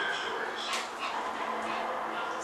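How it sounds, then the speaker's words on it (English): Dogs in a home kitchen give short yips and whimpering whines over a low room background, fairly close, with brief bursts rather than sustained barking. "The dogs."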